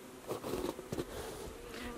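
Honey bees fly around their hives in Alaska, a close, busy buzzing with individual insects swelling louder as they pass near, set against a steady hum of the swarm.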